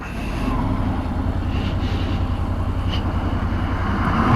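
A Honda NC750X motorcycle with a DCT gearbox is shifted down manually, and its engine gives a steady, close, low droning rumble mixed with wind rush throughout.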